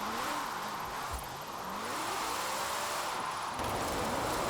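A drift car's engine in Forza Horizon 4 whines and revs continuously as the car slides with the handbrake, pitch sweeping up and down over a loud hiss of tire and road noise.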